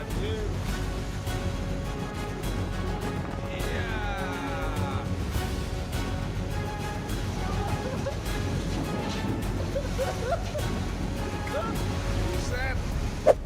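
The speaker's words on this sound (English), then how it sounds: "The Arleigh Burke-class guided missile destroyer USS Sampson pulls alongside USS Theodore Roosevelt in some huge waves." Huge ocean waves and wind surge around an Arleigh Burke-class guided-missile destroyer as it pulls alongside an aircraft carrier at sea. The roar is constant and broad, with sharp splashes and spray breaking through here and there.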